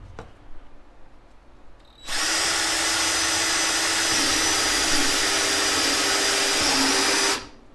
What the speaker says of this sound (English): we're going to put this in 1 first, and we're just going to drill a nice even hole.